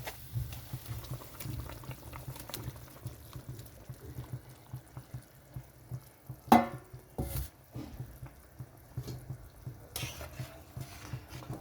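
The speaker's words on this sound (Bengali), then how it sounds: "এখানে দিয়ে দিচ্ছি ভেজে রাখা মাছ আর বেগুন" Fried fish and eggplant slide into a simmering Bengali fish curry with potato, giving soft splashes and stirring over a steady low bubbling, with one sharper clink midway.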